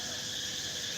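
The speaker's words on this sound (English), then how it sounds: "Thought I'd just share this beautiful dawn chorus of the cicadas and various animals waking up." Dawn chorus of cicadas in Phuket, Thailand, a dense continuous shrill buzzing drone filling the air at steady loudness, with no breaks and no talk.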